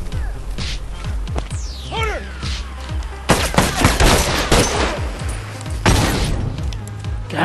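Gunfire in a video game shooter, with rapid bursts and single shots crackling loudly over a busy background of game sounds, close and dense, with no talk.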